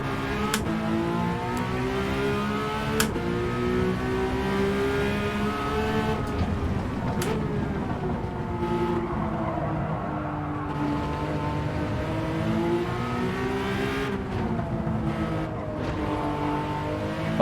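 A race car engine from Assetto Corsa played on a PS5 roars steadily for the whole stretch, pitch sweeping up and down through gear changes with brief sharp shifts and occasional tire squeal, loud and continuous with no talking.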